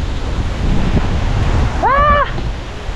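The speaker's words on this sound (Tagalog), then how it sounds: "binabagyo na tayo" Strong storm wind and waves at sea, heard from aboard a boat, make a constant loud rushing roar with gusting buffets on the microphone, and a brief shout or call cuts through near the middle.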